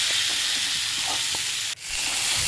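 Fried potatoes and cauliflower are stir-fried in a pan, making a loud, continuous hissing sizzle with faint scraping and a brief dip near the end.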